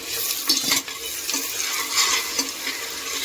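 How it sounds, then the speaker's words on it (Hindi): Spinach boiling and rice pulao cooking in a home kitchen, a steady bubbling, hissing wash with soft stirring scrapes and faint clinks, close and continuous with no talk. "एक तरफ हमारा पालक उबल रहा था और दूसरी तरफ हमारे पुलाव बन रहे थे"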